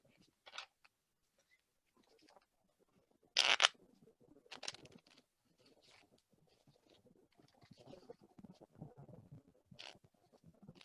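Brief bursts of playing cards being riffled and shuffled, with soft shuffling patter between them and quiet gaps; no voices.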